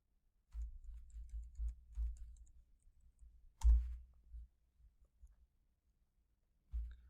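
Someone types a login username and password on a computer keyboard: quiet bursts of key clicks and taps, a louder single strike near the middle, then a pause and a final short burst.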